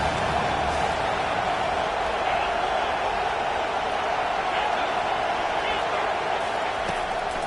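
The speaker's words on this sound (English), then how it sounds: "Decibels rising as the crowd gets behind this defense on third down." A stadium crowd roars steadily and loudly at a college football game between Florida and Florida State, rising behind the defense on third down, with a broadcaster's voice over the din.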